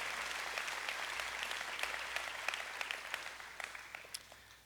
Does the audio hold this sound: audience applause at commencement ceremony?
yes